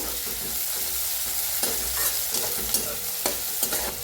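Onion and tomato roast in a pan for a ridge gourd curry, giving a continuous close sizzle broken by repeated sharp scrapes of a spoon stirring against the pan.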